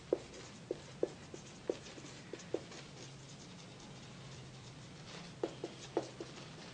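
Pen writing by hand on paper, heard as a series of sharp, close taps and short scratches spaced irregularly across a quiet background with a low steady hum, and no voice.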